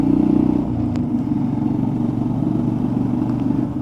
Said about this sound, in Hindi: बाइक से बड़ी सही साउंड आती है जो इसको मिली हुई है। मुझे लगता है साइलेंसर चेंज किया है।